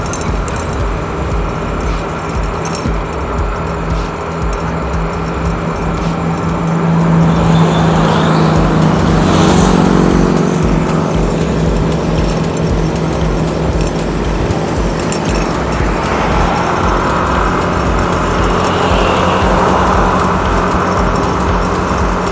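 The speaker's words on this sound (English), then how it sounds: "It's unusual that everything's overtaking me." Vehicles overtaking a car on Highway 7 in Thailand, a continuous loud road roar from inside the car that swells as traffic passes around the middle.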